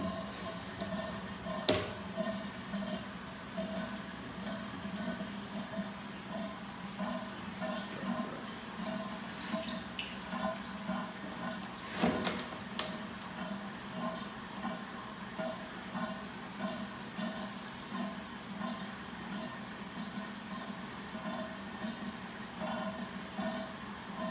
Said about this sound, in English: So yeah, you can hear that water running through it.